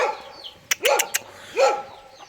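A farm dog barks a few times in short, sharp yelps at moderate distance, the barks separated by brief pauses.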